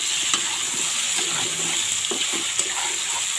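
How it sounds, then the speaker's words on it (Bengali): Mango pieces fry in a pan for a sweet chutney, giving a steady bright sizzle with a few soft stirring scrapes, close and continuous, no talking. "তো আমটা মোটামুটি ভাজা ভাজা হয়ে এসছে।"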